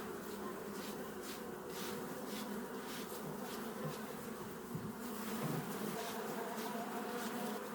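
A dense, steady hum of many honeybees buzzing around an open hive during inspection, continuous and fairly soft, with no talking.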